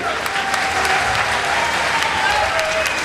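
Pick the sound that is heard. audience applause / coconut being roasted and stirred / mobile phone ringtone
audience applause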